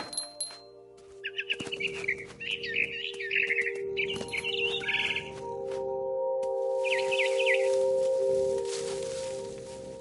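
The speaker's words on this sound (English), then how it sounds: "Then I heard chirping outside my window. It was a barn swallow going back to her nest." A barn swallow twitters repeatedly in What Remains of Edith Finch, lively rising chirps in several bursts with a later call near the end, over a sustained musical drone and soft rustling.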